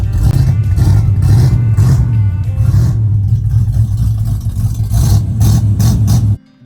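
Classic car engine running loud and close after being fired up, a deep steady rumble with a few throttle swells before it cuts off abruptly near the end.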